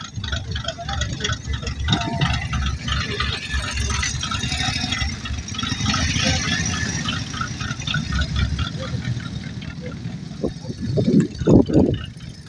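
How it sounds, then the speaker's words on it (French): Combustion car engines idling at a US car show, a continuous low rumble and rattle under crowd chatter, with a louder engine burst near the end. "c'est des bruits de vrais moteurs, ça change un peu des voitures électriques"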